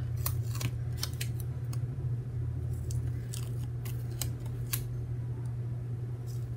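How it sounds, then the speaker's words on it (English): Scissors snip paper planner dividers in a run of crisp, irregular cuts close by, over a steady low hum of background fan noise, with no talking. "Again, I'm just trimming these up."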